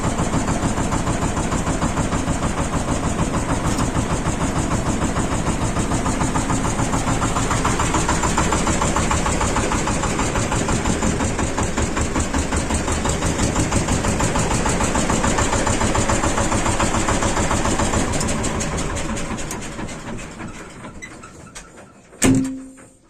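Shifeng 240 mini tractor engine running at a steady idle, a loud close chugging drone that holds for about twenty seconds, then dies away, followed by a short knock.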